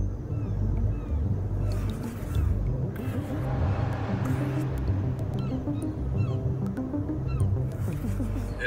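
Car driving on a road between Los Angeles and Oakland, a steady low engine and road drone heard from inside, with faint intermittent clicks and knocks over the continuous rumble.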